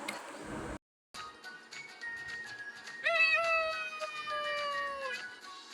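A cat meows, a drawn-out rising and falling call in the second half that follows a brief gap and some softer sounds, fairly clear with no talk over it.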